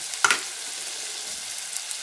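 Onion with salt fries until soft, producing a steady soft hiss of oil with one brief clank of a spoon early on.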